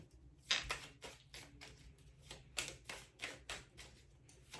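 Quiet, irregular clicking of keys being typed in quick bursts with short pauses between them.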